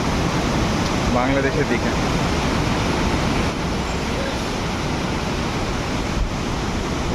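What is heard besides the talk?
water rushing at Borhill waterfall, Meghalaya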